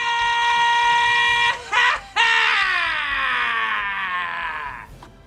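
A scream from the film Wayne's World 2 holds a loud, sustained, strained tone for about five seconds, breaking off briefly near the middle and then sliding slowly lower as it fades.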